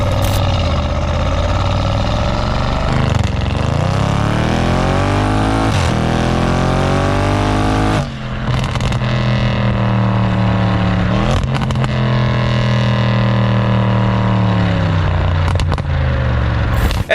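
A 2018 Audi RS7 engine heard from inside while driving, a loud steady drone with rising and falling pitch as the car accelerates and shifts through gears, no talking.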